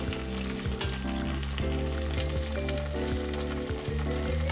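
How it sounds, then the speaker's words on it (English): Eggs frying with oysters and batter for a Taiwanese night-market oyster omelette, a loud, continuous close sizzle with no voices. "Fry for around 30 seconds. Add the eggs. Break the egg yolk."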